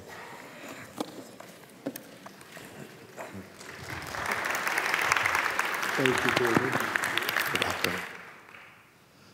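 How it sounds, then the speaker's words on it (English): Audience applause at an evening Shabbat service swells to a full, steady burst in the middle and then fades, with someone speaking briefly before and around it. "I always greatly appreciate applause when I come up."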